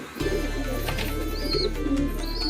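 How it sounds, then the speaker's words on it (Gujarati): A young pigeon, still a chick, gives soft, low, sustained cooing close by, with faint higher chirps and calls from other birds in the background. "જો ભાઈ આ એ કબૂતર છે,"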